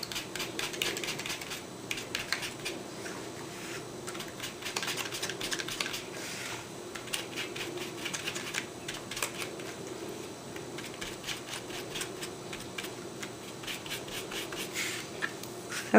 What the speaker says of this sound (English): just sponge around these edges